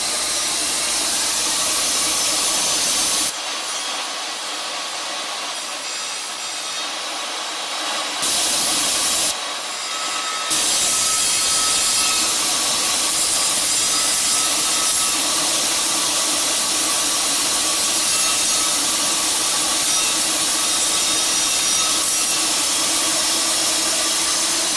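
A wet tile saw runs continuously nearby as an intricate tile piece is cut freehand, giving a loud, steady whine with hissing water spray and brief pauses early on.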